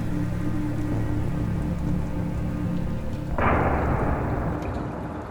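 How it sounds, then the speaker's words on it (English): Steady heavy rain pours throughout, then a loud, rumbling thunderclap bursts in near the end and slowly fades under the downpour. "And this is the storm overhead."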